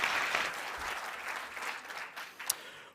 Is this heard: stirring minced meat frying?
no